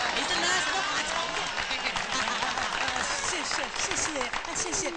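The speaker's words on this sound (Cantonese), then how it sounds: "好，請鼓掌。" Wedding guests clap in a film scene, a dense burst of applause that holds steady throughout, with voices speaking over it.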